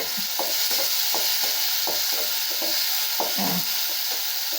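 Tomatoes sautéing in hot oil in a pan for a tamarind okra curry, a steady loud sizzle with repeated stirring strokes scraping through it at a quick, uneven rhythm, no voices.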